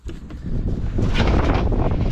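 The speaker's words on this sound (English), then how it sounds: "very windy out here." Strong outdoor wind buffets the microphone at night, a loud, steady roar that swells slightly and continues without pause, no voices.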